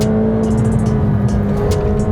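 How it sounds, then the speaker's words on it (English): McLaren 720S with a twin-turbo 4-liter V8 running loud and close in a steady, droning engine note, with brief high hissy flutters layered on top. "a stroked out 4-liter version of the McLaren V8 with a pair of turbochargers"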